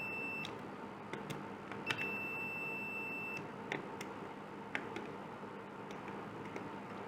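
Electrical buzzer wired through a magnetic contactor gives a thin steady tone in two stretches, broken by sharp clicks and ticks of the contacts, quiet and close with no speech.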